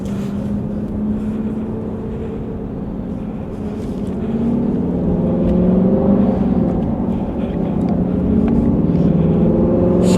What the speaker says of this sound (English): So smooth, this engine. It is. It makes such a good noise.